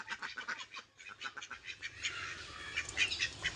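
Several large ducks quack repeatedly in quick, uneven bursts, close by and fairly loud, with no talking over them.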